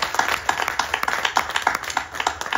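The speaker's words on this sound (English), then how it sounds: "Please give him another round of applause." A small audience at a devotional gathering claps in scattered, uneven rhythm, a few hands heard fairly close for a couple of seconds.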